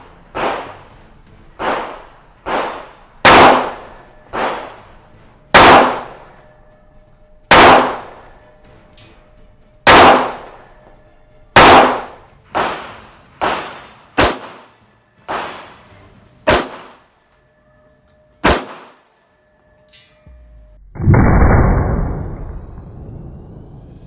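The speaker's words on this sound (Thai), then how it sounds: "พร้อมแล้วเริ่มยิงครับ" A CZ 75D Compact pistol fires a string of loud, sharp shots at an outdoor shooting range, each crack ringing out with a short decay at irregular intervals, followed by a burst of wind or handling noise.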